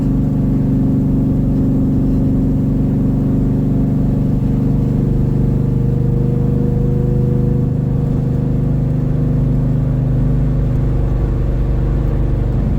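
A 1970 Chevelle muscle car engine idles with a deep, loud rumble, steady and up close, with a throaty low drone and slight variations in pitch throughout.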